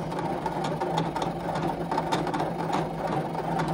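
A Scan N Cut craft cutting machine runs through a cut with a steady, close, mechanical whir. Faint pulses and stepping carriage movements come through under the motor hum, and no one speaks.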